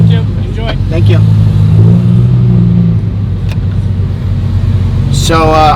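A shop car being driven on the street, its engine rumbling steadily and loudly from inside the cabin, with someone talking briefly at the start and again at the end.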